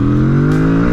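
A 2025 Kawasaki Z650 RS 650 retro motorcycle engine drones loudly and close while riding, holding a steady revving tone that climbs slightly.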